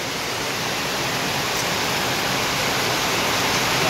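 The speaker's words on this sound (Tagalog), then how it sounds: "Grabe talaga ang lakas ng ulan." Heavy rain pours down in a thick, unbroken roar of broadband noise that holds steady and slightly builds throughout, with no voices.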